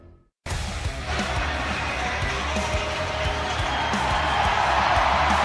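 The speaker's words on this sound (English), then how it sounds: "Listen to this crowd at Giesa Field" Big football crowd at Gesa Field for Washington State versus Washington, a loud, steady stadium roar that swells and holds after a brief quiet start, with cheering mixed through the wash of noise.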